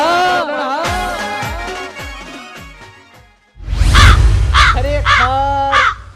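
A crow gives a run of harsh, loud caws close by in the second half, after a stretch of voices talking.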